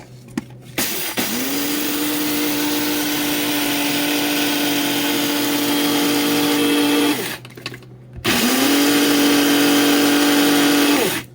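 A grain mill grinds rice into flour with a loud, steady motorized whine and roar, running for about six seconds, briefly pausing, then starting up again close by.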